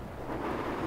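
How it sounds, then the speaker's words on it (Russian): A brief low rumble of thunder with a hiss of rain, faint and distant, lasting under a second, in the video game Five Nights at Freddy's 2. "Гром."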